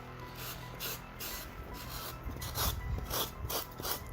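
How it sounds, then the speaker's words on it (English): Steady back-and-forth scraping of hand sanding on a DIY faux stone brick Halloween prop, repeated rasping strokes close up with no talk. "I'm just going to go in and kind of sand it by hand to kind of clean that up"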